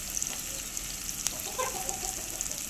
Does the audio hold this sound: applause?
no